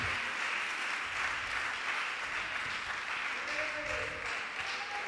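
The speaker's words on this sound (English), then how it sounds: "Give them another round of applause" A church congregation applauds during a Sunday quarterly service, steady moderate clapping throughout with faint voices underneath.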